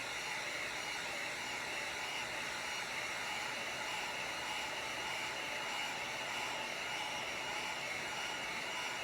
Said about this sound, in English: So let's go ahead and hit it with the heat gun.